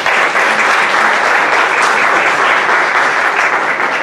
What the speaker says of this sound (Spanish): démosle un fuerte aplauso a nuestro profesor de este día